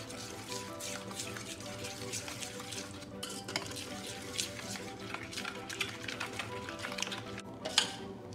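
Spoon stirring water into flour batter for Konkani-style milk ghavan, a soft rhythmic swishing and scraping against the bowl with occasional utensil clinks, fairly close and with no speech.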